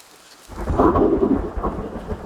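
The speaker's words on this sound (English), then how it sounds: "Yes, there's the thunder." Rolling storm thunder in the hunting game Way of the Hunter, set in the Nez Perce Valley. It swells from silence into a loud, sustained rumble with rain-like hiss, holding for about two seconds without any voices.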